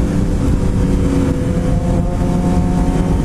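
A Suzuki GSX-R 600 motorcycle rides in third gear: a loud, steady engine drone with wind buffeting, continuous and close throughout.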